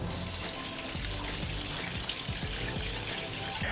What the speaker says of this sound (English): I'm gonna rinse this with some cold water until it's nice and clear.